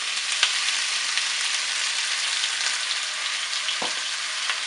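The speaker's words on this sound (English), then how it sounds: "We are going to saute this in some butter" Peppers, onion and smoked sausage sauté in butter with a loud, continuous hiss of frying, broken by a few soft stirring scrapes.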